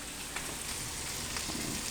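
Onions fry in a pan, cooking down toward translucent, a dense steady sizzle with faint crackles running throughout, close and continuous with no talk.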